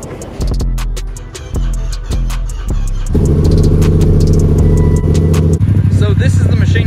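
A Yamaha FZ-07 street motorcycle engine cranks in several short, loud bursts, then fires and runs with a steady, loud, throaty revving close by, with voices faintly audible at times.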